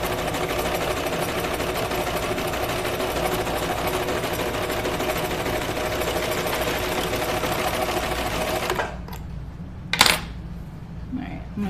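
A cover stitch sewing machine hums steadily at close range while hemming a knit dress, then stops abruptly, leaving a quiet room broken by a single sharp clink.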